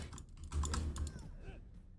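Keys clatter on a computer keyboard in quick, uneven bursts, close and fairly soft, with a low background rumble and no talking.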